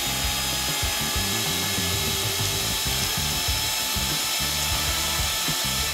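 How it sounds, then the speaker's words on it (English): An electric mixer whips cream cheese and condensed milk for a rainbow kids' recipe, giving a loud, steady motor whir with a rhythmic churning pulse throughout and no talking. "For that, I'll use our mixer."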